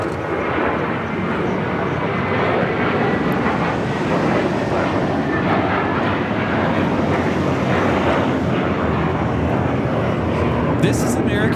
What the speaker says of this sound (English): 1779 taking off to Charlotte on the A321.